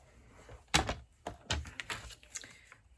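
White cardstock being cut for card making, heard as a few sharp, close clicks and thunks of a paper trimmer blade, spaced irregularly with quiet gaps between.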